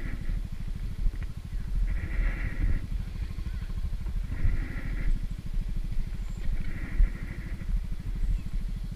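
A motorcycle rides a rough, steep mountain road under construction beside a ravine near the Catandala bridges in Ibaan, Batangas. Its engine drones steadily and close, with periodic rattling surges and bumps throughout.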